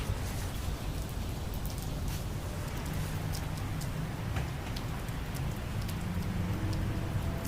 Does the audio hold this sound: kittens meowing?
no